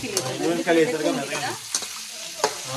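Ginger, cumin and coriander frying in a pan, with a steady close sizzle and a few sharp stirring scrapes or clinks cutting through, heard alone without talk.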